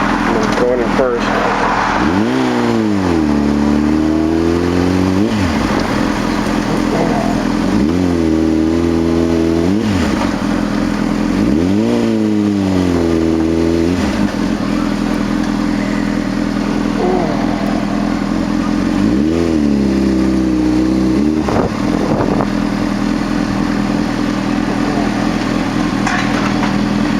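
A motorcycle ridden in first gear, its engine loud and close, rising in repeated revving sweeps as it accelerates, dropping back between pulls over a steady idle drone.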